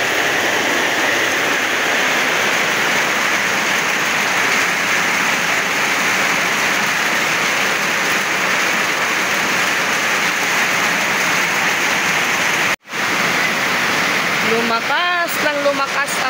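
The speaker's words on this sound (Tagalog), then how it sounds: "Lumakas lang lumakas ang ulan mga kapix." Steady heavy rain pouring down loudly, a dense continuous roar that cuts off briefly before resuming, with a voice faintly heard at the end.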